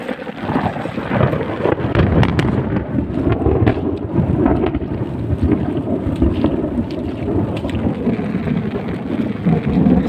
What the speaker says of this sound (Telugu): ఉరుములు బీభత్సంగా ఉన్నాయి